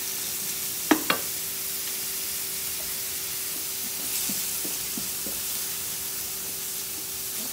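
Onion and garlic frying in a hot pan, giving a soft, steady sizzle and hiss throughout, with a couple of brief utensil clicks near the start and quieter stirring taps later.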